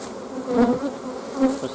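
Honeybees buzz close by at an open hive in a steady drone, the hum swelling and fading as individual insects fly near.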